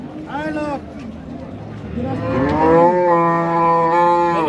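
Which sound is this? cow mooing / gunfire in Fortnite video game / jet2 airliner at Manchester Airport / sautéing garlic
cow mooing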